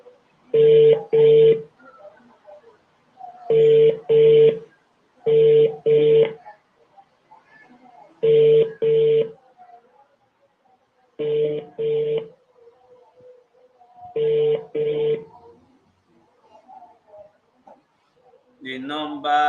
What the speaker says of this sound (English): Now it's Chinedu's line ringing.